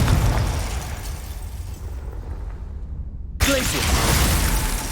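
A Confringo fire spell bursts in Hogwarts Legacy gameplay: a broad, loud blast whose roar decays over about three seconds, then a second sharp detonation hits and sustains as a dense, crackling rumble.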